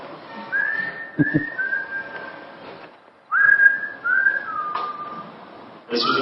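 Actor someone whistles a short tune in two melodic phrases, with gliding notes and a brief gap between them. A few faint knocks sound in the background.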